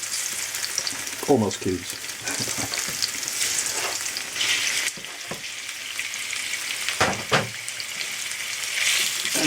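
Diced pork hits hot oil with frying onions in a pan, sizzling loudly and steadily while being stirred, with a brief clatter of the spoon and someone speaking a few words over it.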